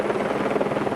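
A helicopter flies toward the remote mountain village of Codera in Italy, its rotor giving a steady, loud, rapid chopping throb with no other sounds.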